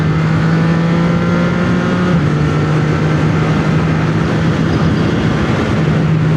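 A motorcycle engine with an aftermarket exhaust drones steadily close by, holding a constant pitch with a rough exhaust rumble that dips once and continues.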